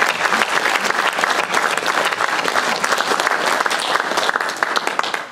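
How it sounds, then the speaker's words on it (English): A loud, sustained round of applause from a meeting audience at a 16mm society AGM, many people clapping in a thick, even patter for several seconds. "it would be nice to have a round of applause"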